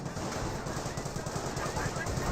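Bren machine gun firing in the Company of Heroes video game, a rapid, continuous rattle of bursts heard at moderate distance amid the battle din.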